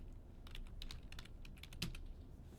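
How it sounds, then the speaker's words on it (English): Keys clatter on a computer keyboard while a title is retyped in an Excel spreadsheet, with quick irregular bursts of clicks and one firmer keystroke near the end, quiet and close, with no speech. "I have to actually replace that text by triple clicking and then retyping the"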